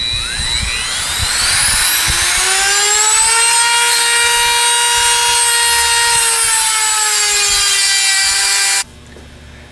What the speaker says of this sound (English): We're going to turn it to the other side and cut the other outside half of the race.